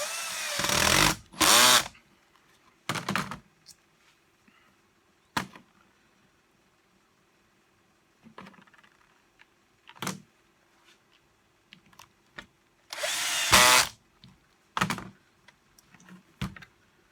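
A power drill drives self-tapping screws in several loud, separate bursts, some long whirring runs and some brief zips, with quiet handling noises in between.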